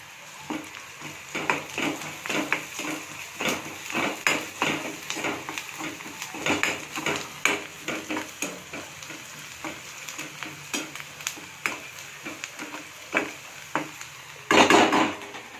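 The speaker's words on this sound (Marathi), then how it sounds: "तर मी कांदा मस्तपैकी भाजून घेते लाल होईपर्यंत हे आहे मी कांदा त्यात टाकते लसूण" Onion and garlic frying in a pan, steadily sizzling as they are stirred, with repeated close scrapes and knocks of a spatula against the pan and a louder burst of sizzle near the end.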